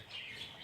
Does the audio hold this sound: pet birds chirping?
yes